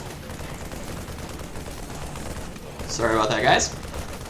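Bursts of gunfire striking a Protoss Assimilator in a StarCraft II match, a short clustered volley near the end that rises over a steady game background, with a brief spoken remark just before it.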